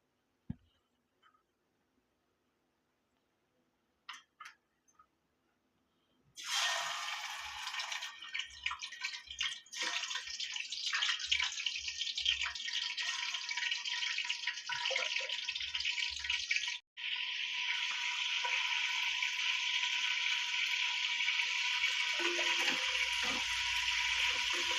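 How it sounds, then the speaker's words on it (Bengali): Chicken pieces frying in hot oil for homemade biryani, a steady loud crackling sizzle that starts abruptly after a few seconds of near silence with faint clicks, then runs continuously to the end. "এই তেলের মধ্যে আমি চিকেনগুলোকে এখন একটু ভেজে নেব।"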